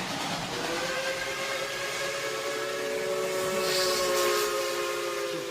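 A steam train whistle blows in a long, steady, harmonic tone over a bed of hissing steam, holding for several seconds and swelling slightly near the end, with no talking.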